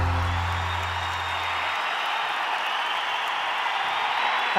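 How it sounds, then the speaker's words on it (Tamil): An audience gives steady, dense applause at a Tamil song performance event, sustained clapping that continues evenly throughout with a low hum fading early on. "கைத்தட்டல் கொடுக்கலாம்."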